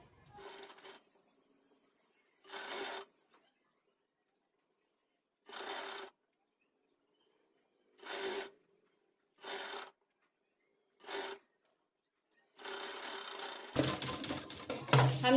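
A sewing machine stitches along a folded one-inch fabric strip for a child's Pathani kurta, running in short separate bursts with quiet gaps between them and a busier rustle at the end.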